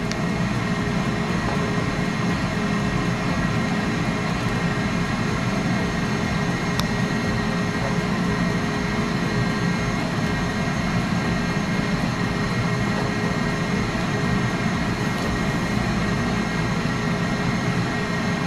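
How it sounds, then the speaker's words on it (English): An electric stand mixer whips pavlova meringue nearby in a home kitchen, a loud steady motor whir with a broadband rushing drone that holds constant the whole time, no talking. "Sorry about the noise. I got my mixer making a pavlova over there."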